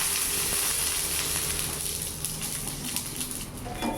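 Hilsa fish fries in a pan on a low gas flame with a steady, dense sizzle and hiss that fills the whole stretch, close and fairly loud, with small pops and spatters over it.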